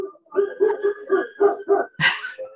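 A dog barks in a steady run of about seven quick, evenly spaced barks, ending with one louder, sharper yelp, clear and fairly close with no talking.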